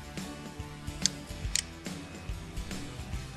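A computer mouse gives a few short, sharp clicks at irregular moments over steady background music, with no one speaking.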